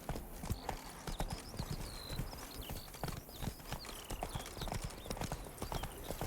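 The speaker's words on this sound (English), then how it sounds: "Run, Roach." A horse gallops in The Witcher 3: Blood and Wine with fast, steady hoofbeats that run throughout, close and clear, while birds chirp lightly in the background.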